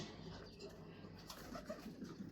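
Racing pigeons that fly in 41-kilometre tournaments coo softly in low, throaty murmurs over faint background hum, quiet and steady for a couple of seconds.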